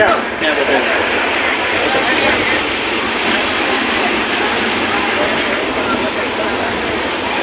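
Steady rumble and rattle inside a moving, nearly empty train carriage in Saurashtra, constant and loud, with faint voices underneath.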